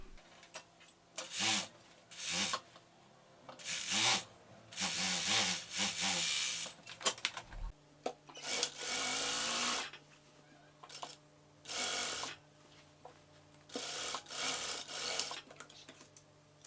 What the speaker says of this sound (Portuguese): E agora eu vou lá para a máquina overlock, vou passar uma costura aqui para unir essa lateral